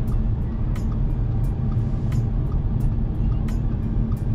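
An Audi A5 S line Quattro turning through a U-turn, a low steady engine and road rumble from inside the car with faint clicks ticking at regular intervals.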